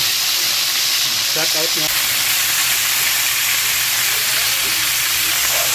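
Marinated chicken fries quickly in a pan, a loud constant hissing sizzle that fills the clip, with a brief spoken phrase near the start.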